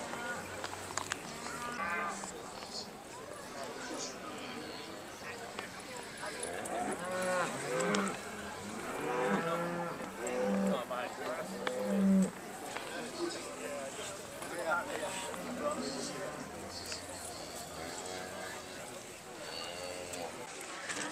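Beef Shorthorn cattle in the show ring at the Great Yorkshire Show low and moo repeatedly against crowd murmur, while someone commentates over the judging.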